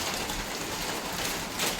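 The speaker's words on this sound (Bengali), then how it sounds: "কত জোরে বৃষ্টি আসছে দেখুন" Heavy rain during a storm pours down steadily, a dense, even hiss of drops hitting surfaces close by, with no voices.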